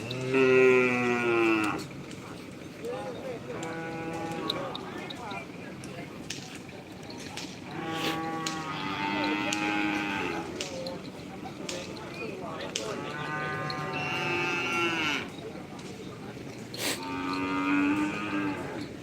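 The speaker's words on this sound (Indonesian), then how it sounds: "Ini banyak sapi yang datang sudah guys." Bulls at a Karapan Sapi bull race on the Asemanis field in Pamekasan moo repeatedly, with several long, loud calls spaced across the scene and people talking in the background.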